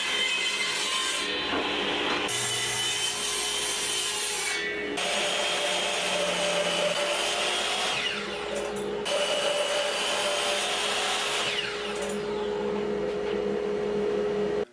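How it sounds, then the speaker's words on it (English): A saw resaws a walnut board with continuous, loud, rasping strokes, its pitch and texture shifting in several distinct passes over about fifteen seconds. "I'll cut this part off. It's going to go away, and then I'm going to resaw this part."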